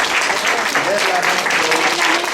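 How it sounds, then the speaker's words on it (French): Audience applause at a French-language show as the cast is introduced: a dense, steady wash of clapping with a voice talking over it throughout. "Je vais vous demander d'attendre la fin pour applaudir"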